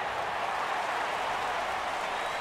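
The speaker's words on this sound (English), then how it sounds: "And the home crowd applauding." Home crowd applause in a Madden 19 football game between the Denver Broncos and Oakland Raiders, a dense, steady wash of clapping and cheering that holds at an even level throughout with no voices standing out.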